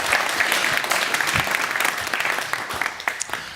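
Webinar audience applause, a dense, steady burst of many hands clapping that carries through the whole stretch and thins slightly toward the end.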